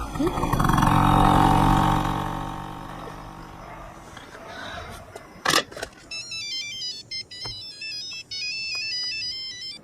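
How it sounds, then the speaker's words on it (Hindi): A phone ringtone from a friend's call plays a bright electronic melody in repeating bursts, following a loud mixed passage with a sharp hit, and carrying on steadily to the end. "तेरे किसी दोस्त का फोन आ गया।"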